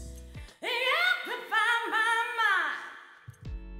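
A sung vocal phrase treated with a stereo hall reverb plugin in Logic Pro, sustained melodic notes rising and falling over about three seconds with a spacious reverberant tail, heard alone with no talk.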